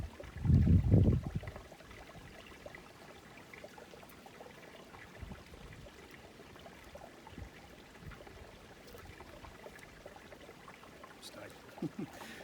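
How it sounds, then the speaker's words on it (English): Rosé wine poured from a bottle at a winery cellar door tasting: a brief louder burst at the start, then a soft, steady, faint stream of liquid continuing alone. "Putting it down, pouring a bottle of rosé."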